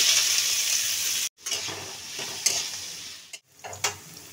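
Chopped onions hitting hot oil with cumin seeds and green chilies for a dhaba-style egg tadka, giving a steady close sizzle broken by two short pauses and scraping stirs, with no talk.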